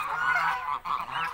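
A goose honks twice in quick succession, close and fairly clear, with a short pause between the calls.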